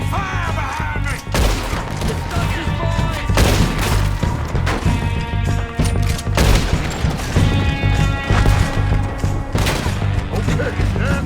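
A loud, sustained shootout in Red Dead Redemption 2 against O'Driscoll gang members, with repeated rifle and pistol shots, booms and clatter throughout, mixed with shouting voices.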